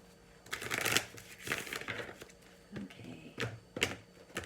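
Brisk riffling of a tarot card deck, several quick shuffles in short bursts, close and fairly soft, with brief pauses between them.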